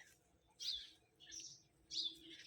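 Three quick bird chirps ring out at a fairly even pace, faint and distant over a quiet background.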